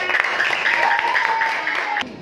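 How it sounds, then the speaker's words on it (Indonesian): A class in an Indonesian school lesson claps along, giving steady applause mixed with a sustained tone and faint voices, then it cuts off sharply near the end. "Oke, tepuk tangan"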